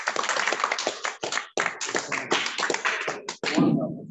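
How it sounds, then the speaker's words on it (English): A crowd claps in a round of applause at an event honouring years of service, dense rapid clapping that comes in bursts with brief breaks and ends in a short scattered patter. "A round of applause."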